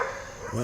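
Dogs bark in the background outdoors at night, one or two short barks, while a voice starts to speak.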